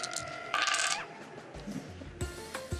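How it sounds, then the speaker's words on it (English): Shogi pieces thrown like dice onto a wooden board give a few sharp clattering bursts of hard little pieces landing and rattling, with quieter knocks between them, close and fairly loud. "you throw the shogi pieces like dice"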